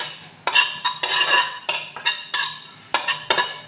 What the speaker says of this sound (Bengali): শুকনা প্যানের মধ্যে সামান্য একটু মৌরি